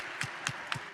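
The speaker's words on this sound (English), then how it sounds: "And a round of applause" Three evenly spaced hand claps, faint against a steady room hiss, at a women-in-tech event as an audience welcomes a digital artist onto the stage.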